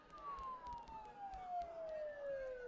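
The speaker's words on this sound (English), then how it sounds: "Don't those sirens sound really close?" Police sirens in the video game Persona 4 Golden wail in a steady, slowly falling tone, faint and distant under a soft ambient background with light scattered ticks.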